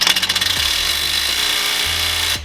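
A stubby 3/8 impact wrench hammers on a bolt of an 8th-gen Honda Civic, opening with a rapid rattling burst and then holding a loud, steady buzzing whir for about two seconds before cutting off.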